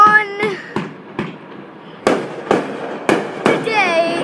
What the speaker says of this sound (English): thanks for free fireworks, if you're watching this!